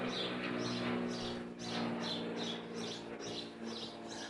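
Birds chirp outdoors in a loud setting, a repeating pattern of short bright calls at a steady rhythm over a continuous humming background, moderately quiet, no talking.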